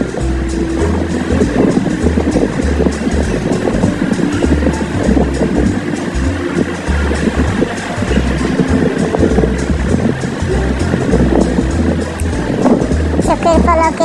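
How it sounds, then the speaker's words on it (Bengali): A rice mill finishes rice and stitches 50 kg sacks shut, its machinery running as a loud steady rhythmic drone and rumble throughout, with a voice talking over it. "এই যে মেশিনের মাধ্যমে কীভাবে চাউল ফিনিশিং হচ্ছে, এই মেশিন দিয়ে বের হয়ে বস্তা ধরে সেলাই হয়ে বের হয়ে আসছে।"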